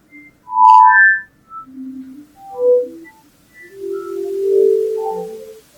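A sonified astronomy image plays as a sequence of separate synthetic tones, sliding and steady pitches with gaps between them, joined by faint white-noise hiss in the second half.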